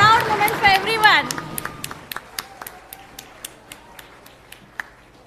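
Scattered hand claps ring out at a degree and diploma distribution ceremony, sharp separate claps following a voice at the start, thinning into a slow, sparse, fairly close patter that fades toward the end.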